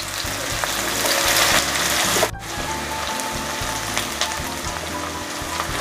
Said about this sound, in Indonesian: Minyaknya sudah panas, saya tumis terlebih dulu bawang merah yang sudah diiris tipis.